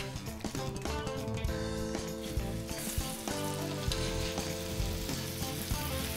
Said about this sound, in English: I'm gonna add the steaks seasoned side down and let them sear for 2